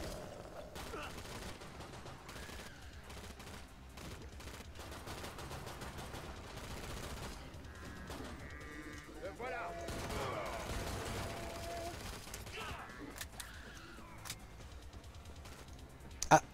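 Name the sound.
gunfire in video game Killing Floor 2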